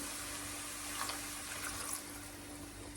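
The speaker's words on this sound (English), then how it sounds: "Let's add the water." Water is poured into a pan of mushroom stroganoff in a steady, continuous splashing rush that stays fairly quiet and lasts about three seconds without a break.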